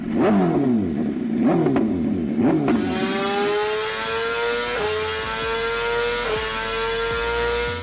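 A BMW S1000RR 1000cc superbike engine, from a flood-damaged machine, revs sharply in several quick blips, then settles into a steady, loud, higher idle with a few brief dips, close by and with no talking.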